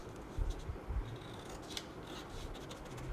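Scissors snip through a paper bodice pattern in a few close, quiet cuts, with soft paper rustle and rubbing between them and no talk.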